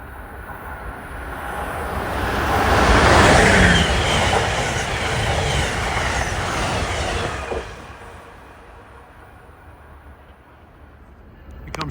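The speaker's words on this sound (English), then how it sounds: "Approaching at 4:18 is a train that comes a long way, Amtrak 42, Pennsylvanian" The Amtrak 42 Pennsylvanian, running from Pittsburgh to New York, passes in a rushing roar that builds, peaks and fades over several seconds, with rail clatter and a faint wheel squeal.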